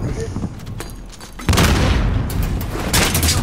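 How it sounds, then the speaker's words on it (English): A grenade blast in the shooter game Call of Duty: Modern Warfare, a sudden loud low boom at mid-clip followed by sustained rumbling battle noise and gunfire-like crackle, with speech present in the mix. "Oh, grenade"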